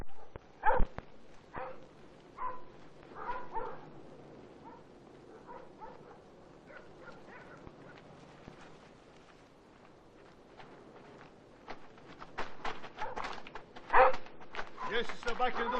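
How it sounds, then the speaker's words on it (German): Pursuit dogs in a 1960 war film bark in short, scattered bursts, some sharp and close, amid sporadic footsteps and background commotion, with voices speaking at times. "Sie setzen Hunde."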